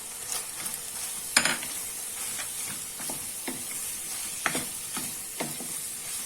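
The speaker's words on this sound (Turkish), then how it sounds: "Biraz da biberlerimi kavuracağım." Peppers sautéing with fried onions in a pan, a continuous hissing sizzle broken by several scraping strokes of a utensil at uneven intervals, close and without speech.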